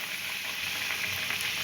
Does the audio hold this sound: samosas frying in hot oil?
yes